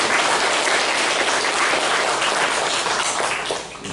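Loud, dense applause from a large audience at a Korean church Sunday service, steady throughout and dipping slightly just before it ends.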